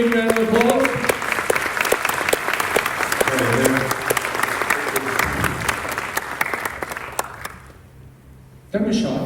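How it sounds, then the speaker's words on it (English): A convention crowd at a fan expo breaks into loud, sustained applause and cheering as a guest walks out on stage, the clapping dense and continuous before fading toward the end, with some talk mixed in. "Give him a big round of applause."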